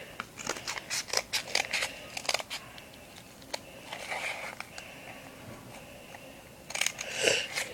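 Close, crisp snips of scissors cutting in quick bursts, a rapid cluster at first, then a pause, then another flurry of cuts.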